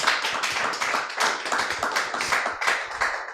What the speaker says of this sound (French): Est-ce qu'on peut l'encourager avec les applaudissements?